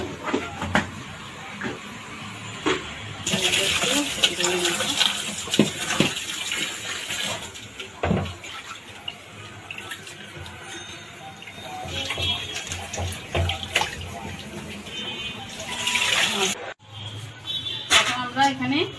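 Fish being washed with salt and turmeric under running water, a steady gush from the tap with splashing and handling throughout, while a person talks over the sound.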